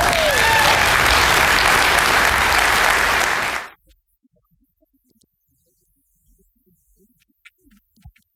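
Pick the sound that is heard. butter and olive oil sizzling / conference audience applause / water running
conference audience applause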